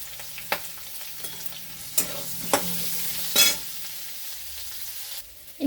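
Potatoes and green chillies fry in a pan with a soft, steady sizzle, broken by several sharp scraping clicks as they are stirred.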